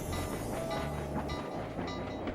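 A train rumbles past in the video game Sly 2: Band of Thieves, a continuous low rolling drone with rhythmic clatter, heard fairly close and alone at moderate volume.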